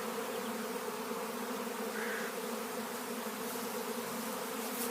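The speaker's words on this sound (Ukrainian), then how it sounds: "Отакий рій. Отакі рої попадаються." A swarm of bees caught in a trap hung a few meters above the ground, giving a dense, steady buzzing that holds loud and unbroken from start to finish.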